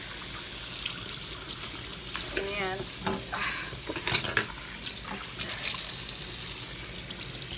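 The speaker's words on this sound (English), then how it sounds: "you're just gonna run the water in here." Steady cold water streams from a tap into a sink, a continuous hiss with faint splashes and a brief word spoken over it, while rinsing a Thanksgiving turkey.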